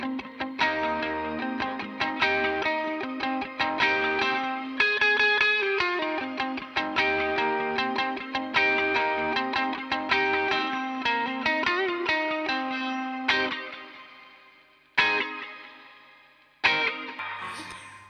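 A Yamaha Revstar guitar with P90 single-coil pickups plays a steady picked pattern through eighth-note delay and reverb, with a bright, effected tone that runs continuously and then breaks into a few short stabs with echoing tails near the end.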